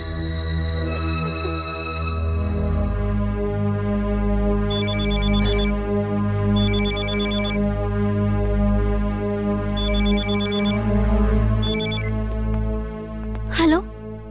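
A mobile phone rings in short, high electronic bursts that repeat at intervals, set against a loud, dense music score in a film scene.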